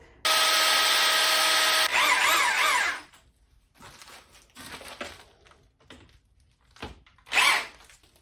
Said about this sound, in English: So I got my friend's Tapcon hammer drill and stuff out.